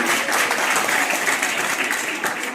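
Steady applause from a crowd at a political gathering in India fills the whole moment, dense clapping at an even level without pause.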